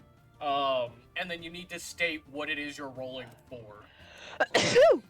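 A single sharp sneeze bursts out at the end, following a stretch of close conversational talk among players at a tabletop role-playing game session.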